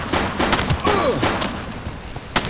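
A suspect firing a gun in The Precinct police game: sharp cracking shots in quick succession, with a whistling sweep and scattered bangs in a busy mix.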